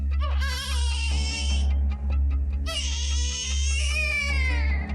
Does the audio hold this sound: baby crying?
yes